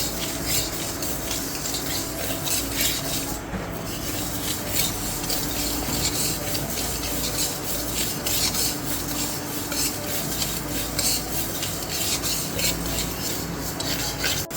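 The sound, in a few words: dry roasting lentils in a pan without oil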